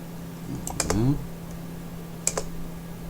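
Keyboard shortcut key U pressed on a computer keyboard in After Effects, a few crisp close clicks over a faint background hum.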